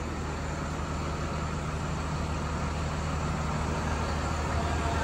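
Steady, smooth idle of a Hino RM280 bus engine, a constant low rumble with even broadband hum holding level throughout, no talk over it.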